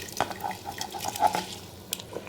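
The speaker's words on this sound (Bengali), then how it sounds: "এখন এই চালটা এর মধ্যে দিয়ে দিচ্ছি।" Washed basmati rice, soaked for an hour, goes into a pot for chicken pulao, giving wet, close patters and small drips of liquid with no talk.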